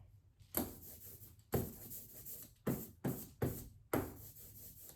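An ink roller is pushed back and forth over a lithography palette, giving close, soft tacky rolling strokes, each starting with a sharper swish, repeated in six uneven passes with short gaps between them.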